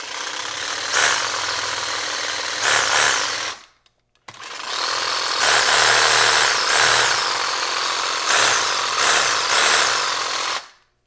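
A reciprocating saw fitted with a wire brush scrubs a metal vise, a loud, harsh buzzing rasp in two long bursts separated by a brief pause, with no talking.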